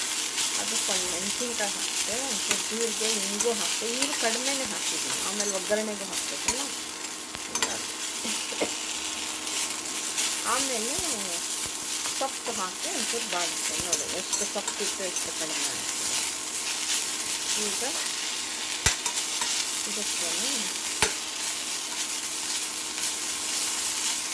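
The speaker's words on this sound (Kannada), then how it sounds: "ಚೆನ್ನಾಗಿ ಬಾಡ ಫಸ್ಟು ಒಂಚೂರು ತುಪ್ಪ ಹಾಕಿದೆ" Fenugreek leaves fry in ghee in a pan with a steady, close sizzling hiss and occasional scraping stirs, while a voice talks over it.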